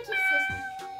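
A child imitates a cat's meow with a single drawn-out, mewing cry lasting about a second, close and fairly clear.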